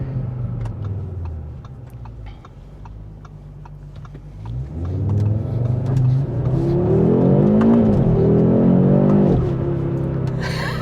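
A 2025 Audi RS3 builds revs as it accelerates around a curve, heard from inside with a low engine drone swelling into a louder rising roar, alongside faint ticking, and no talking.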